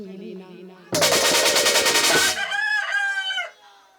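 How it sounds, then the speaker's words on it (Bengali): Hen clucking indoors during a Bengali Gajon folk performance, heard as a loud rattling burst followed by a short run of close, sharp cackles and clucks, with no talk over it. "এ কি বাড়ির ভেতর ধাড়ি মুরগির আওয়াজ শোনা যাচ্ছে"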